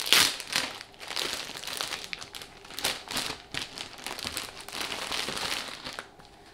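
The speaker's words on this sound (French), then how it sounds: "Je vais ouvrir du coup une tête d'oreiller." Thin plastic packaging around a pillowcase crinkles and crackles as it is opened by hand, close and busy, with a steady run of sharp rustles and crunches for several seconds.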